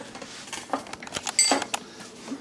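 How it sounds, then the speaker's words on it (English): A spoon stirs macaroni in a pot, giving scattered clinks and scraping taps against the metal at close range, with a brighter clatter near the middle. "I gotta go stir my mac."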